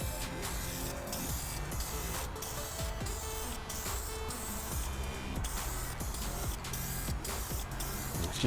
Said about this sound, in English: you just do it like a normal spray paint